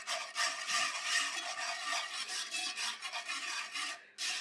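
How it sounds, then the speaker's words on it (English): A whisk breaking up brown sugar pieces in a pan, producing a close, continuous gritty scraping and rubbing with short rhythmic strokes, then a brief pause before it resumes. "Any pieces of sugar, just break with a whisk."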